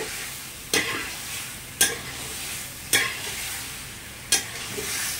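Hariyali chicken sautéing in a pan with a steady sizzle, broken by four sharp spatula scrapes or stirs spaced about a second apart.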